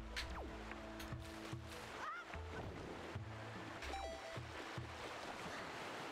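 Water waves in Zelda: The Wind Waker HD: a quiet, steady wash of surf runs throughout, with game music tones and a few chimes layered on top, no talk.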